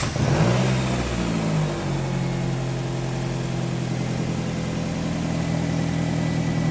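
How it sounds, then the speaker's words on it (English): A 2006 Nissan X-Trail 2.5 L engine cranks and catches, then settles into a steady, loud idle with a droning, rough-sounding exhaust note and no talking. "We can now hop in the car, start it up, and see what she sounds like."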